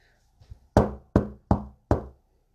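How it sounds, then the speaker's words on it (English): Four firm knocks on a wall sound in slow succession, each sharp and resonant, after a couple of faint softer taps. "4 knocks came from Becky's side of the wall."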